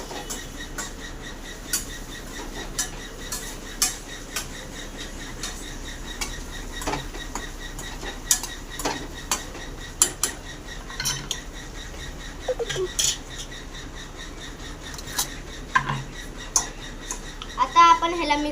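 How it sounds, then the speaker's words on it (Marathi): A metal utensil stirs frying food with chutney in a pan, making repeated close clinks and scrapes against the pan over a soft constant sizzle. "आता फ्राय करून घेऊ थोड्या वेळासाठी।"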